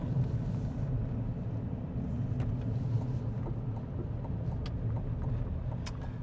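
Steady low rumble and road hum from inside a moving Chevrolet Silverado EV electric pickup truck, with occasional faint ticks and rattles and no engine roar.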